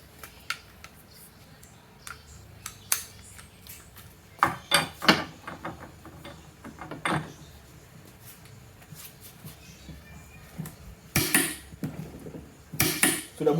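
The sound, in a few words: impact driver fastening at 280 Nm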